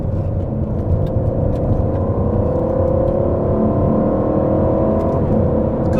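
A 2019 Aston Martin Vantage engine revving while driving, a loud, steady interior drone with a rising engine note over road rumble, sustained throughout.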